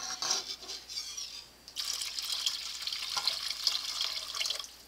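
Bouillon is poured from a measuring cup into a pan in a home kitchen, a soft liquid splash and trickle that pauses briefly and then continues faintly.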